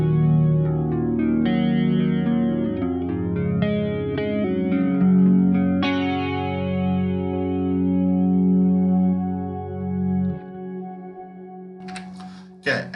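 An electric guitar through a BOSS GT-1000 with Greenback and Vintage 30 cabinet impulse responses plays sustained chords and melodic lines with chorus-like shimmer and light distortion, ringing out loud and continuous before fading near the end.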